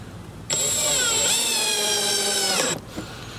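A power drill whines steadily for about two seconds as it drives screws into wooden corner brackets on a quail hutch, close and loud, starting and stopping abruptly with a slight pitch dip midway.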